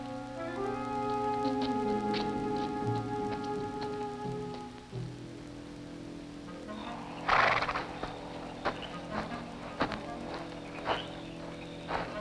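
A horse gives a long, wavering whinny over steady rain, then snorts as drips and clip-clops patter around it.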